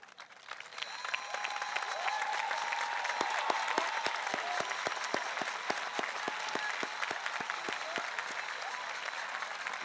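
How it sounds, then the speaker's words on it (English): Sustained applause from an audience at a high school graduation ceremony honoring the honor students, a dense steady clatter of many hands clapping that builds early and continues without letup, with faint crowd murmur beneath. "give you guys a round of applause"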